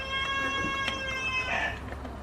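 A rooster crows once at a rural home gate, a drawn-out, tonal call at moderate distance over a low steady background hum.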